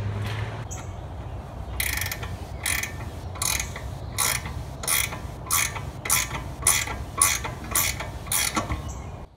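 A ratchet tightens a brake hose fitting into a caliper during a 5 lug hub and 300ZX brake conversion, giving about a dozen quick, evenly spaced clicking bursts up close, with no talk.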